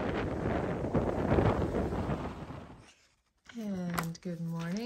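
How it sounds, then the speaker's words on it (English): Strong gusty wind on Cape Cod roars against the microphone for about three seconds, then cuts out briefly before a voice begins speaking. "The wind is just blowing like crazy."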